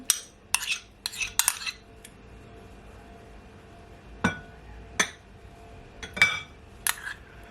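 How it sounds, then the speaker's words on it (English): A metal utensil works mashed potato with butter and cream cheese in a bowl, giving scattered clinks and scraping taps in small clusters with quiet gaps between them, close up and with no talk. "So I'm just gonna mix it all in."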